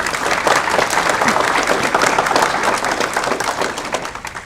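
Loud, dense audience applause at a county school board meeting, many hands clapping steadily in a large room for several seconds before slowly tapering off.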